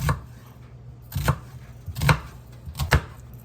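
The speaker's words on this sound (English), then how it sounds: "Just chop it to whatever size you'd like." Knife chopping vegetables for tomato soup on a cutting board, four distinct sharp chops spaced about a second apart, close and fairly loud with quiet pauses between.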